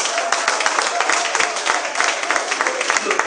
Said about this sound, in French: Encourageons le frère par nos acclamations